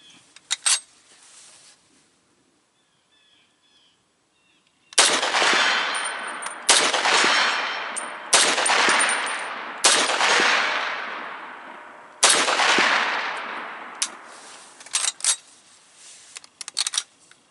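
Five shots from a 1943 M1 carbine rifle at an outdoor range, sharp loud cracks spaced one to two seconds apart, each followed by a decaying echo, with quieter clicks before and after.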